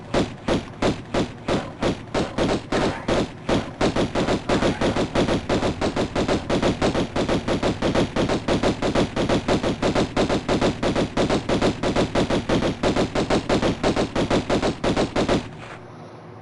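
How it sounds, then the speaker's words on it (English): Lara Croft's pistols fire in rapid, evenly spaced bursts in the Tomb Raider 1 Remaster game, loud and sustained with no break for about fifteen seconds before stopping. "from here we don't have to do anything but shoot with the pistols"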